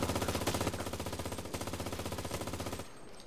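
Rapid automatic gunfire from the video game Cuisine Royale on PlayStation 4, a loud sustained burst of steady machine-gun rounds that cuts off near the end, leaving faint background.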